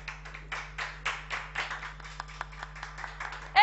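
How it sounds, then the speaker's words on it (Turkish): A small studio audience on a Turkish television music show clapping, a modest, uneven patter of individual hand claps close by, fading into a brief musical note at the end. "Koca bir alkış"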